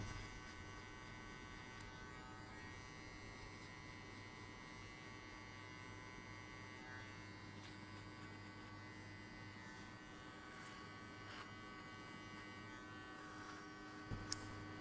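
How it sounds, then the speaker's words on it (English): Electric hair clippers set to a zero guard buzz steadily and evenly throughout a mid skin fade haircut, a close, constant motor drone with no talking. "you're gonna shave everything off here using the zero guideline"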